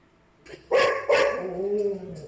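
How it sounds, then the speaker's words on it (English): A dog barks nearby in two loud barks with a brief whimpering whine after them, heard indoors. "Sorry, dog barking."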